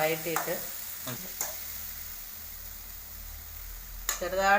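Curry base for a raw plantain thoran sautéed and stirred in a pan: a soft, steady sizzle with a few sharper scraping strokes near the start and a louder stir near the end.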